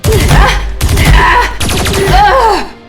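Eltarian blaster fire from a Power Rangers audio drama sounds as three loud bursts of sci-fi shots, each with warbling, sweeping electronic tones, the last one fading out.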